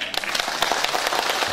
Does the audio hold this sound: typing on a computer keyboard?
no